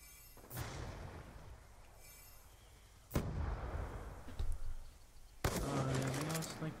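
Gunfire in a shooter game: sharp broadband shots crack out at intervals, each followed by a brief rumble, with steady game ambience and a voice talking in between.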